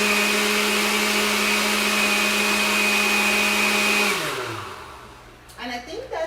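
A blender whirs loudly and steadily as it mixes a gut health drink, then winds down and stops, followed by faint handling clatter.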